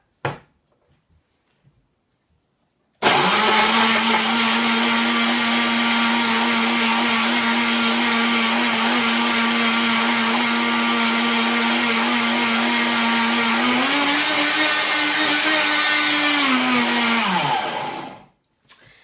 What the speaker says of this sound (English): you've noticed I've got one of these high-speed blenders. It's not a Vitamix, but it's Chef Tony